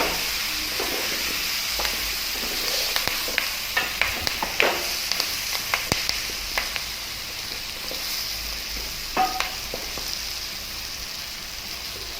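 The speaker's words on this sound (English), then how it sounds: "Stir it well and cook it for a minute." Curry leaves frying and being stirred in a pan for a pumpkin curry, a steady hiss and crackle of hot oil with scattered spatters and scraping clicks of the spoon, close by and without talk.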